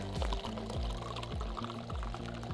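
A drink is poured from an aluminum bra flask, a continuous gurgling trickle with repeated glugging pulses, fairly close and moderately quiet.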